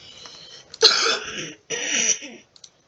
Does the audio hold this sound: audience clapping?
no